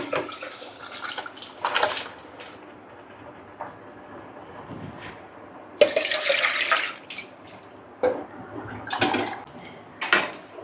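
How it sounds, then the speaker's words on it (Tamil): Rice pours into a pot of boiling water in several splashy, hissing bursts separated by quieter moments of bubbling. "அரிசியை போட்டுட்டு நல்லா கலந்து விட்டுருவோம்."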